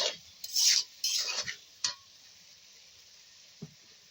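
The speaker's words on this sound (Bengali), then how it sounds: "কষাইতে থাকি আপনারা দেখতে থাকুন" Fish curry of singi catfish with bottle gourd being stirred and sautéed in a pan, with a few scraping strokes and soft sizzling in short bursts, then a sharp clink and a faint tap amid quiet.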